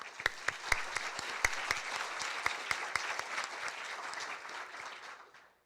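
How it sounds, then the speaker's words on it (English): A conference audience applauds with steady, dense clapping that holds for several seconds, then tapers off toward the end. "So a round of applause."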